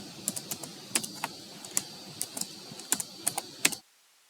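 Rapid keystrokes on a computer keyboard while a paragraph is typed into MS Word, a close, steady patter of light clicks with a few louder key hits, ending abruptly in silence.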